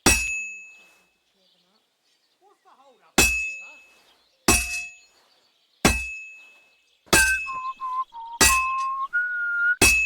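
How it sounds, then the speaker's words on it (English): In Kingdom Come Deliverance 2, a blacksmith's hammer strikes a sword on an anvil, giving six sharp ringing clangs at uneven intervals. Each clang leaves a sustained metallic ring, and faint tonal game sounds play between the strikes. "Now take the hammer and try hitting it a few times."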